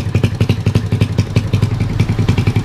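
A Yamaha Jupiter motorcycle engine fitted with a Kanibal exhaust runs in a fast, throbbing, clattery pulse, loud and close, with rapid even firing beats and no talk.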